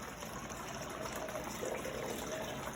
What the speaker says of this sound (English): I'm going to put it in a bag with some water in